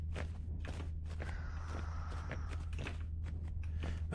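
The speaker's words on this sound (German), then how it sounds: "Man hört ständig Schritte." Repeated footsteps heard in a zombie video game, set inside a building, land in a steady rhythm over a constant low game hum, moderately close, with no talk.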